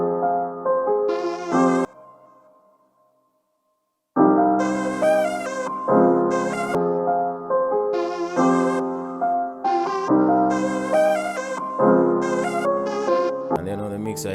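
A bright synth lead plays a bouncy melody of short, plucky notes, pausing briefly before continuing in a steady pattern, loud and upfront.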